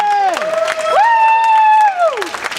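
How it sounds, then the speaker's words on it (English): Wedding guests greet the bride and groom with a loud drawn-out whooping cheer from a close voice, with scattered clapping underneath, lasting a couple of seconds. "can we give them a happy applause"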